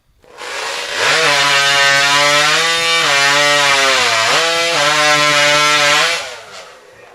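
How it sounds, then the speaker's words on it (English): Hot rod racing chainsaw, a fuel-burning dragster-class saw, roaring through timber in a STIHL Timbersports race in New Zealand; a loud, sustained high-pitched scream with wavering pitch for about five seconds before cutting off. "That is the combustion of the fuel in these big hot rod machines, the dragsters of the chainsaw world"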